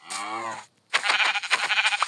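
A single close Minecraft sheep bleat, followed after a short pause by a second, wavering and shakier bleat.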